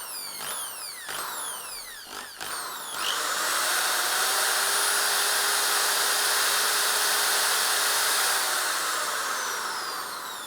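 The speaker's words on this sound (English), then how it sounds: "So now let's try how much power this drill needs." Electric drill powered from a DJI Power Station 1000. Short trigger bursts come first, then a steady high-pitched whine runs loud and continuous for several seconds before tapering slightly, with no talk.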